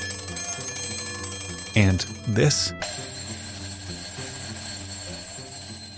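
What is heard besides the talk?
alarm clock ringing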